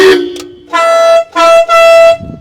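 A tractor horn honks loudly, with a short blast, a brief gap, then two more sustained blasts, the last cut short at the end.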